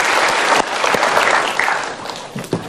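Studio audience applauding at a motivational talk show, a dense, loud burst of clapping that carries on steadily with a few sharper claps near the end.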